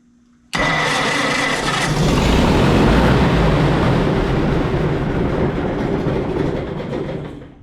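A vehicle engine with the choke cable disconnected starts suddenly after a brief quiet moment and settles into a loud, steady rumbling idle that fills the rest of the stretch, with no talk.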